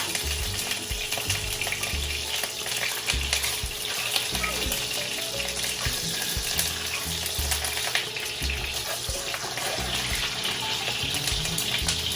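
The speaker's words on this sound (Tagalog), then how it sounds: "ipa-fried ko muna yung egg" Eggs frying in a pan sizzle with a steady, dense crackle that runs the whole time at an even level, close up and with no voices.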